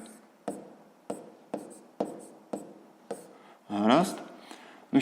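Pen strokes writing out a fraction calculation for a sixth-grade maths exercise: short scratchy bursts in a regular rhythm, about seven strokes, then a longer rubbing scrawl, close up with a voice talking over it.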